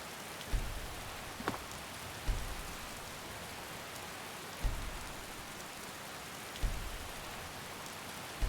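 Steady rain falling in the video game Skyrim, a constant soft hiss of drops with occasional duller thuds standing out, no talking.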